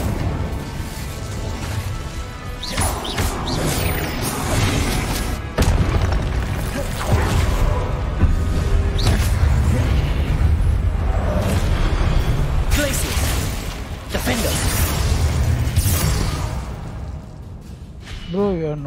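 Hogwarts Legacy combat: an Incendio fire spell and other spells blast in a dense run of booming impacts and crashes over game music, with a voice speaking throughout.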